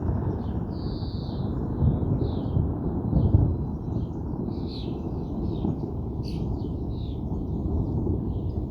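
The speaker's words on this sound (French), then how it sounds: "Orage matinal, orage faible." Distant thunder from a weak morning thunderstorm in May rolls as a continuous low rumble throughout, with scattered birdsong chirping faintly above it.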